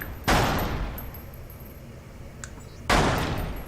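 Dual pistols firing in the VR shooter Lethal VR: two sharp, close, loud shots spaced a few seconds apart, each with a short decaying tail, and no talking.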